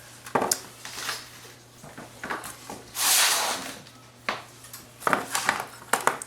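Chunks of raw chicken and cut potatoes tossed into a roasting pan for Greek lemon roast, giving several scattered thuds and clatters, one longer scraping rustle in the middle, close and fairly quiet over a low steady hum.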